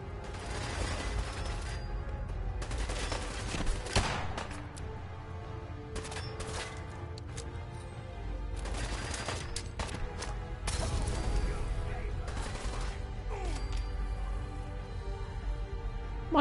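Heavy gunfire from a big gun in Fallout 4, sustained, loud bursts with mechanical clatter that swell and fade over several seconds within continuous game noise.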